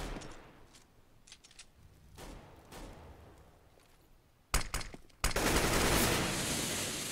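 Counter-Strike gunfire on the Inferno map crackles faintly, then louder automatic fire erupts in sharp rapid volleys near the end.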